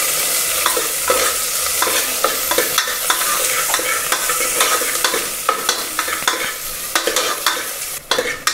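Chopped onion frying in hot oil for a tempering, a steady sizzle broken by frequent sharp scrapes and taps of a stirring spoon against the pan, loud and close with no talk.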